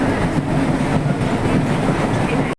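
Steady rumble of a train rolling along rails, recorded from inside the train, with a continuous rhythmic clatter of wheels throughout, close and fairly loud.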